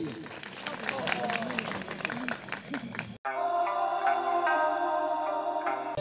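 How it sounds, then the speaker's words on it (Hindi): An audience claps at a Ramlila awards show, a busy crowd applause for about three seconds with voices mixed in, cut off abruptly by loud music. "जोरदार ताली हमारे गोल्डी भाई के लिए।"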